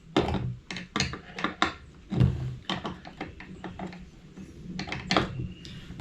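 Bolts being tightened onto skateboard trucks with a tool, a series of close ratcheting clicks and woody knocks in uneven bursts.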